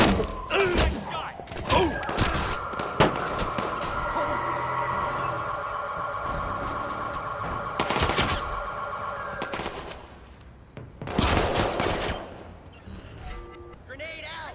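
Gunfire in the video game Watch Dogs 2, scattered sharp shots and thuds with a sustained tonal game sound beneath, a heavier burst near the end, mixed with shouted voices.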